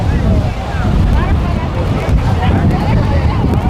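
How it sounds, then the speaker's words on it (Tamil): Strong wind buffets the seashore near Dhanushkodi, a loud rumbling roar across the microphone with surf in the background and people talking under it. "காற்று நல்லா ஜம்முன்னு அடிக்குது."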